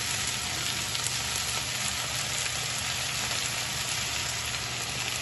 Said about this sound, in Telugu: ఈ చుక్క కూర చాలా త్వరగా వేగిపోతుంది.